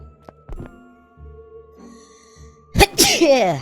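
A person sneezes once near the end, a sharp loud burst following quiet game sounds and soft chimes in an Android horror game.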